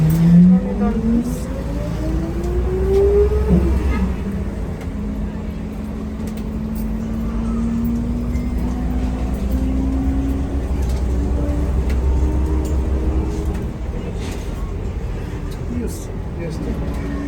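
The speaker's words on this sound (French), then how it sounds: "On est dans le bus." Riding inside a city bus in Marrakech, the engine droning low and steady with a rising whine as it pulls away, interior rumble filling the background while someone talks.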